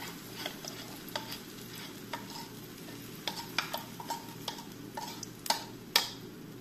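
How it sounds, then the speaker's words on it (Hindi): Potato paratha batter stirred in a pan over a low flame, giving a steady scatter of light scraping ticks and taps over a soft sizzle, with the strokes close and moderately loud and no voices. "तो अभी हम इसको अच्छे तरीके से हिला लेंगे ताकि ये पूरा गोल गोल सा बन सके"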